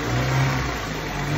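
Honda car engine running loud and close for a moment with a steady, rough mid-range drone that swells slightly, no voices over it.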